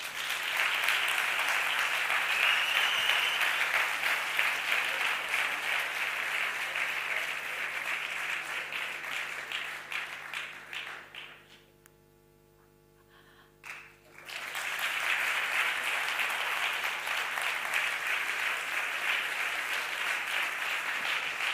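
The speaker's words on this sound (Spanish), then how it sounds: "Un aplauso, por favor." An audience claps at an award ceremony as a prize is collected, a dense, sustained burst of applause that dips into near silence for a moment before swelling back to full strength.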